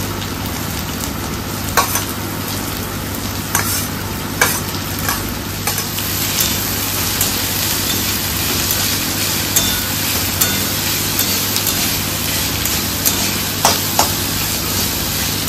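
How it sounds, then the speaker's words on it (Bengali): Garlic and onion fry in foaming oil with a continuous loud sizzle and crackle, and regular spatula scrapes and taps mark the stirring throughout. "পেঁয়াজটা দিয়ে দাও, রসুনটা কিছুটা ভাজা হয়ে গেছে।"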